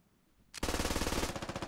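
MG3 machine gun firing in a military shooter video game, a sudden loud sustained burst of rapid, evenly spaced shots starting after a brief quiet moment and continuing to the end.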